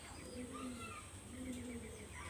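Pure bloodline pigeon cooing softly twice in a row, low throaty coos near the microphone against steady background noise, with faint chirps around them.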